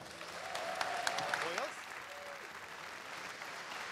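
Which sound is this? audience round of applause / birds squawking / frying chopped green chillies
audience round of applause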